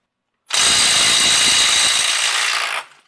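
Snap-on Stubby CT9038 18V cordless impact wrench running in mode 3 at 400 foot-pounds, a single loud, close burst of rapid hammering lasting about two seconds, then stopping abruptly.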